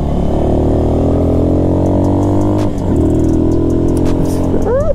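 An Italika 200 motorcycle revs hard on a test drive, its engine a loud, steady close-up drone that dips briefly at a gear change and then climbs again, with no talk.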